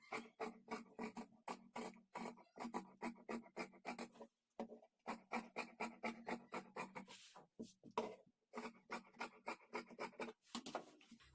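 Scissors cut blouse fabric along marked outlines, a quiet, close run of rapid crisp snips in steady rhythmic bursts, with a few short pauses between strokes.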